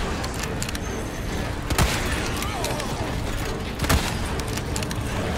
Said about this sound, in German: 7 Schuss aus dem Scharfschützengewehr